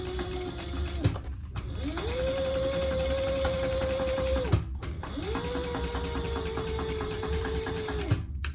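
A sewing machine runs a quarter-inch basting seam on a crossbody wallet, in two steady whirring bursts of several seconds each separated by short pauses, close and moderately loud with no talk.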